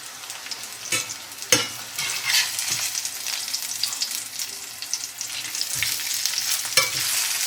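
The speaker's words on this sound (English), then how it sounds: "Place your fish on your thing and let cook." Fish fillets sizzling steadily in a pan at a beach cookout, a loud continuous frying hiss broken by a few sharp pops and scrapes, with no talking.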